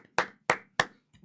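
Three sharp, evenly spaced hand claps ring out close and alone, each one crisp and quickly fading.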